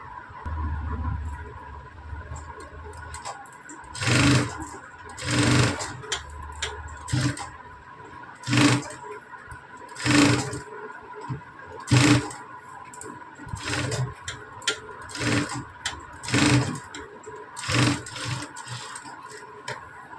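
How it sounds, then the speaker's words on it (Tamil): A sewing machine stitches a leaf-design blouse in short whirring bursts with pauses between them, close and fairly loud, with a faint hum and a steady tick under the gaps. "இப்போ இந்த ஸ்டிச்சஸ் மேலேயே நம்ம ஒரு மேல் தையல் போட்டு எடுத்துக்கிட்டு சுற்றிலுமே தையல் போட்டு எடுத்துக்கலாம்"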